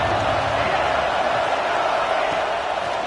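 A stadium crowd at an OU vs Tulsa college football game sends up a steady, dense roar of cheering, continuous and fairly loud throughout.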